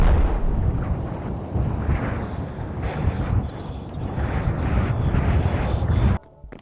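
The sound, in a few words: big explosion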